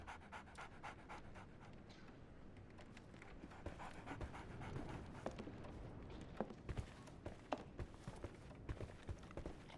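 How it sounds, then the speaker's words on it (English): A dog in the Sherlock Holmes: The Awakened video game pants steadily, with quick rhythmic breaths close by, mixed with light scuffling and faint footstep-like taps, all fairly quiet. "So, Barnes has a dog now."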